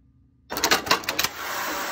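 A Passap E8000 knitting machine starts up after silence with a quick series of clattering mechanical clicks, then settles into a steady whirring run as the carriage moves across the needle bed, close and moderately loud.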